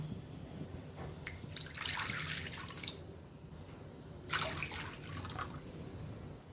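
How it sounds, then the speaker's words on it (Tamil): Water pours and trickles in two short bursts into a pan, about two cups, quiet and close, over a low background hum. "அதால் 2 கப் அளவு தண்ணி சேர்த்துக்கலாம்"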